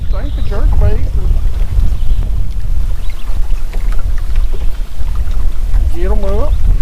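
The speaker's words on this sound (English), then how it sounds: "Got a little bit of wind right here." Wind rumbles loud and steady across a lake around a fishing boat, buffeting the microphone throughout, with someone talking briefly at the start and again near the end.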